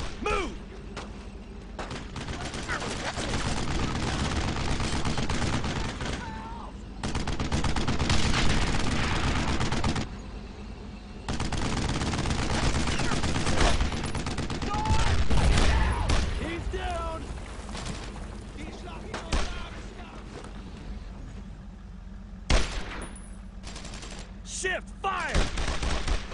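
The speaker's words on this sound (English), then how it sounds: "Boys, give me some cover fire over there." Bursts of rifle and machine-gun fire in the World War II shooter Brothers in Arms: Road to Hill 30, crackling volleys that come and go over about half a minute with shouted game voices mixed in.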